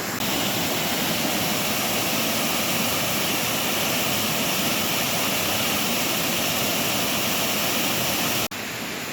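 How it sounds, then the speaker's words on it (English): A small waterfall in forest near Cumberland Junction, with a lily pilly at its edge, roars as a steady, loud, close broadband rush that runs unbroken before cutting off abruptly near the end. "we've got a beautiful waterfall in the background"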